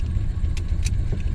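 A Ford Model A with a modified transmission and new gearbox drives on a test run, its engine a steady low rumble close by, with two brief bright rattling bursts partway through.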